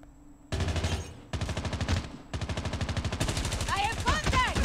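RUS-79U submachine gun fired in Call of Duty Mobile, loud rapid automatic bursts in several sustained strings with brief gaps, game effects and a voice over part of it.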